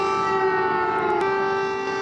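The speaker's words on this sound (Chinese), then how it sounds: "基辅开始响空袭警报" An air raid siren wails over Kyiv, a steady sustained tone with strong harmonics that holds loud and unbroken throughout, with no voices.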